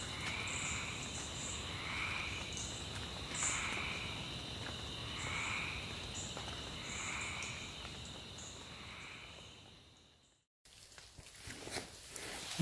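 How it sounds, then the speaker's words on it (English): Insects and frogs chorus at night in Ethiopia, a steady high cricket trill with repeated chirping calls pulsing over a hushed background, then cutting briefly to near silence before rustling resumes. "I can record frogs, birds, insects,"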